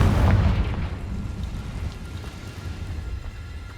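A Confringo blasting spell in Hogwarts Legacy detonates with a deep, heavy boom at the start, then rolls off into a rumbling, crackling tail that fades gradually with no talk.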